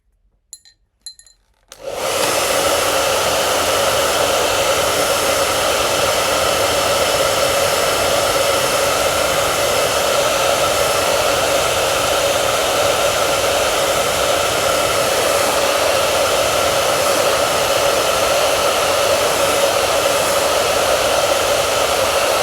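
A hair dryer blasts onto a freshly painted watercolor, starting abruptly after a couple of faint clinks and then running as a loud, steady, close whooshing roar for the rest of the stretch, alone with no voices.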